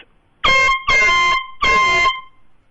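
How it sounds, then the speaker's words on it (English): Three loud, sustained air horn blasts with a bright harmonic tone, the first short and the last two longer, separated by brief gaps. "that's my air horn"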